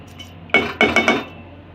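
Sugar being added to tamarind pulp in a metal cooking pot while making sweet imli chutney, heard as a few sharp clinks and scraping knocks of a spoon against the pot, close and brief, with no speech.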